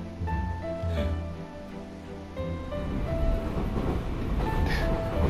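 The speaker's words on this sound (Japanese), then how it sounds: "電車に乗っている。" Train ride in the video game Root Letter Last Answer: a continuous rumbling rail drone with rhythmic clatter, topped by faint tonal whistles and squeals that rise and fall as the carriage rolls along.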